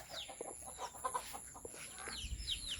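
A hen clucks on a rural family homestead, a run of soft, broken clucks close by, mixed with faint chirps and light outdoor background noise.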